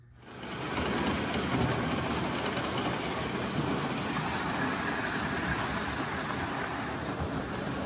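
A Marx model toy train runs steadily on a home layout, a continuous rumbling, whirring roll that starts softly and holds at an even, close level with no talk.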